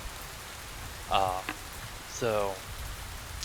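Steady rainfall hisses as a constant wash of noise in the video game Len's Island, with a couple of brief voiced sounds rising over it.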